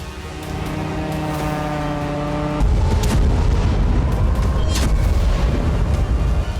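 A Ukrainian drone attack on the Russian border city of Belgorod: a steady, droning hum, then a sudden loud, broad roar of blasts and rumbling that goes on with sharp cracks.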